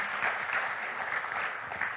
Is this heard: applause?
yes